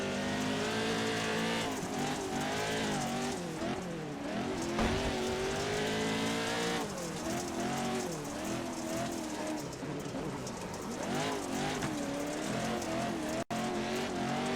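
Pro 2 Lite off-road race trucks roar around the Phoenix track, engines droning and revving continuously at high pitch with a brief tire squeal, loud and close without a break.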